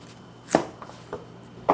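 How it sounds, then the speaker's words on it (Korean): Garlic being sliced into thin pieces with a knife while making Chinese five-spice braised pork, three or four separate crisp chops on a cutting board, close and clear in a quiet kitchen. "자 이렇게 마늘 편을 썰어 놓고"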